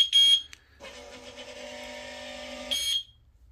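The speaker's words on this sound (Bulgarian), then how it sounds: "При натискане от недоброжелатели има аларма, където се включва." Alarm on a solar-powered automatic anti-parking barrier with a remote control, sounding as a loud continuous electronic siren tone with steady harmonics for about two seconds, framed by short sharp beeps.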